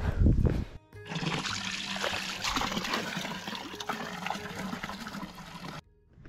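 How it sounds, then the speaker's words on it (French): A river's flowing water rushes and trickles steadily for several seconds, a fairly close, continuous splashing wash that cuts off abruptly near the end. "Et ben il y a une rivière là-bas."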